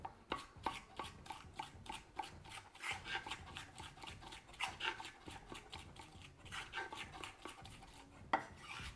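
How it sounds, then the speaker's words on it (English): A knife blade repeatedly smashes garlic flat on a cutting board for Boston clam chowder, giving a rapid, steady run of close dull thuds with light scraping between strikes. "Now you take your knife, hold it on the board, thusly, with your cutting edge up above, and then you're gonna smash, smash, smash, smash, smash"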